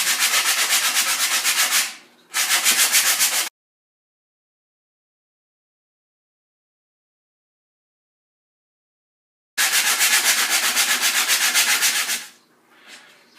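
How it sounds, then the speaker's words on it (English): Rapid back-and-forth scrubbing with 120 grit sandpaper on a snare drum being rebuilt, in two bursts separated by a long silence, loud and close, ending with a few softer rubs. "very slowly start sanding it off. And I'm using 120 grit sandpaper"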